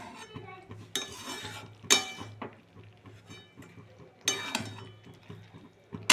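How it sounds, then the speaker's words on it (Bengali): A spoon stirs banana flower and potato curry with ghee in a pan, giving irregular metallic scrapes and clinks against the pan, several sharper knocks standing out over a quiet kitchen background. "এবার ভালো করে নাড়াচাড়া করে নামিয়ে নেব।"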